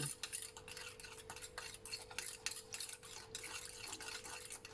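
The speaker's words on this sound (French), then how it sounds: "Donc on remue bien pour que ce soit bien homogène." A thick green homemade plantain ointment is stirred in a pot, giving a soft, steady scraping swirl with light utensil clinks, quiet and close, with a faint hum underneath and no voices.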